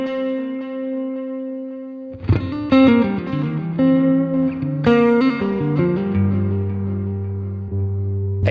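An electric guitar played through a NUX RC boost effect pedal: a sustained, clean-boosted chord rings, then a run of bright, punchy picked notes and chords with long, harmonically rich sustain.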